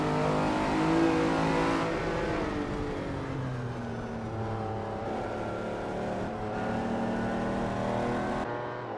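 A Lamborghini accelerating hard during a night race through Barcelona city streets, its engine loud and close, the pitch sweeping upward with each gear and holding a steady roar throughout.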